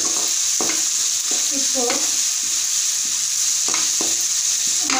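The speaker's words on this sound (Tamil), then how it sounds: "கேரட் போட்டுக்கோங்க, பீன்ஸையும் போட்டுக்கோங்க. நல்லா கலந்து விட்டுக்கோங்க." Carrots and beans frying in a pan for rava kichadi are stirred, steady sizzling under repeated scraping strokes of the spoon at an irregular rhythm, close by, with a brief spoken word.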